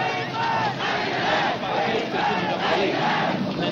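A protesting crowd at a union demonstration roars and shouts in a loud, continuous swell of massed voices, rising and falling in waves, while someone tries to address it over a loud hailer.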